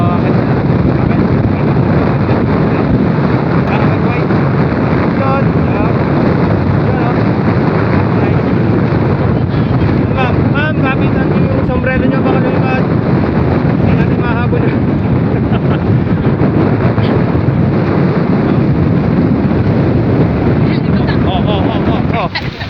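Strong wind buffets the microphone on a high outdoor viewpoint, a loud continuous rumbling roar lasting the whole stretch while people talk intermittently beneath it.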